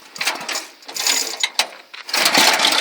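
A Sears Custom 10XL garden tractor's small engine runs through an aftermarket exhaust routed to the rear, giving a rough mechanical clatter that surges and dips in uneven bursts, fairly close and loud.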